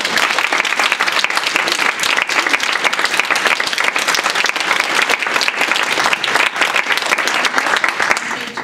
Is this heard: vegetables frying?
no